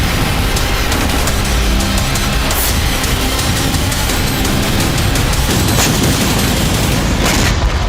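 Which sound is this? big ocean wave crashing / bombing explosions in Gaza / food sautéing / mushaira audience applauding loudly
bombing explosions in Gaza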